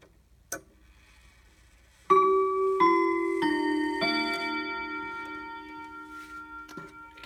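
A Howard Miller triple chime mantel clock strikes the Westminster chime: after a faint tick and a lone click, four rich ringing chime notes follow in sequence and sustain, decaying slowly under a soft ticking.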